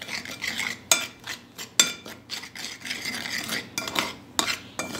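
A utensil stirs and scrapes through ribs coated in mustard, barbecue sauce and lemon juice, giving repeated wet scraping strokes with occasional sharp clinks against the dish.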